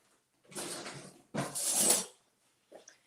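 Metal cutlery rattles and scrapes in a drawer as a spoon is fetched, two clattering bursts close by, then a brief soft clink.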